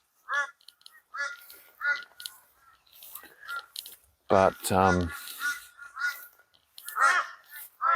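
Crows caw repeatedly in short harsh bursts at an abandoned golf course, fairly close, while someone speaks briefly in the middle.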